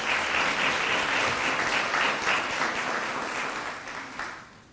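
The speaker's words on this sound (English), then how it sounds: "Let's give her another round of applause" A crowd applauds at a Greensboro city council meeting, steady sustained clapping filling the room for several seconds before tapering off.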